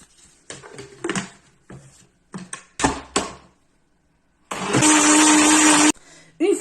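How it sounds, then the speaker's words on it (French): An electric blender mixes crêpe batter in one loud, steady whirring burst of a second or so, after a stretch of short clattering sounds and voices. "c'est pour ça que je préfère mettre au blender. Voilà, vous mixez quelques secondes"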